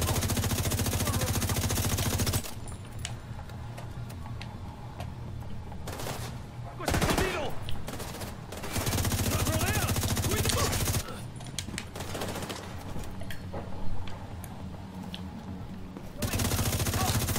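Gunfire from the video game The Division 2 crackles in rapid automatic bursts over several stretches, alternating with quieter gaps and some background game noise.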